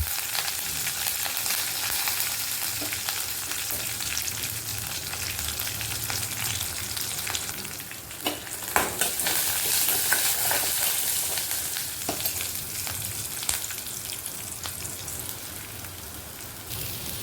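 Green chillies, dried red chillies and curry leaves crackle and hiss in hot oil, a continuous close sizzle with occasional louder pops and stirring, no voices.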